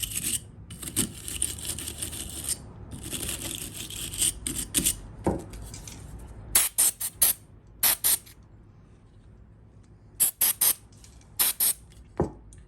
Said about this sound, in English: I'm just going to spray this cleaner down into here